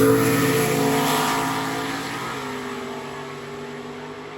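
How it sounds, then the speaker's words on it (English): A Ford Mustang drag race car coasting down the track after a run, its engine drone steady and close, then gradually fading and easing off as the car rolls away. "Mustang coasting off out the back"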